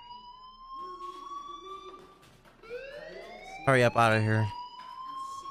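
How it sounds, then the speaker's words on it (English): Fire alarm in the video game Life is Strange sounds as a steady electronic tone with harmonics, running under a voice, with a louder burst of speech near the end. "Hey, do you hear that fire alarm? That means you should be outside."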